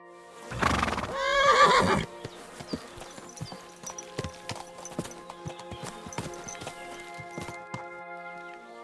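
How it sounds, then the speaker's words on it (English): A horse in Kingdom Come Deliverance 2 gives a loud, close whinny in the first two seconds, followed by a steady run of clip-clopping hooves and small movement sounds, with no speech. "I've got a horse for you here."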